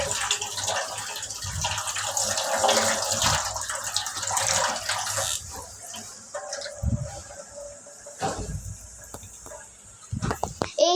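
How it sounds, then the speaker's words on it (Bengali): Water runs from a tap in a steady gush while hands are washed with hand wash, loud and close for the first half, then fainter splashes and rubbing with brief bursts of water. "হ্যান্ড ওয়াশ দিয়ে ধুয়ে নিই হাতটা আমরা।"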